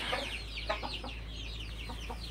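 Colombian Brahma and European Silkie chickens on a hobby farm in Faridpur give a run of soft, repeated clucks at moderate distance, steady and without speech.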